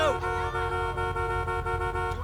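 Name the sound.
car horn honking in GTA V video game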